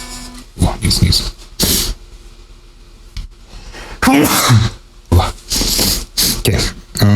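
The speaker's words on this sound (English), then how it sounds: "Oh, sneeze." A person sneezes during a guitar practice session, a short sharp burst amid bursts of nearby talking and small handling noises.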